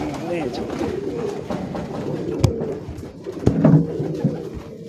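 Teddy breed pigeons coo in low rolling calls close by, while someone talks over them and a few sharp knocks stand out near the end.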